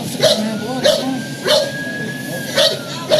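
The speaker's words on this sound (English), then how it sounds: "K9 unit 742, they're saying someone else is in the back of the house." A police K9 dog barks at a scene with a few sharp, loud barks spaced through the moment, including yips and whimpers, close by.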